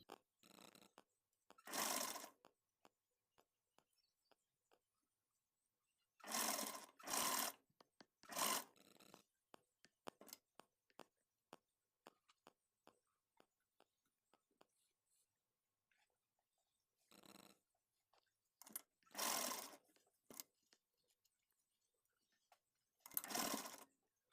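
A sewing machine stitching a ruffle sleeve for a blouse runs in short loud bursts of rapid whirring, separated by quiet pauses with faint clicks and handling sounds, close to the listener.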